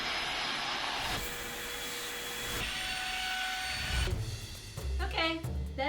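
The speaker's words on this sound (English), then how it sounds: "I'm going to vacuum my mattress just to see how dirty it really is." A vacuum cleaner runs steadily over a mattress, a continuous broadband whine with a faint tonal hum, loudening and shifting toward the end as the nozzle moves; a voice is briefly heard.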